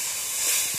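Water poured into a hot pan of fried cumin-ginger spice paste for a fish curry, giving a loud, steady, close steaming hiss that holds throughout the short moment.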